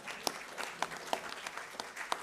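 Brief, moderately distant audience applause at a talk or forum event, a light patter of scattered claps with a few sharper individual hand strikes.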